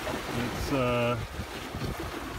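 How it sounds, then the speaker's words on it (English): Wind rushes over a Corsair 24 trimaran sailing on open ocean, a steady broadband roar mixed with water noise, while someone speaks briefly over it. "the wind's picked up a little bit"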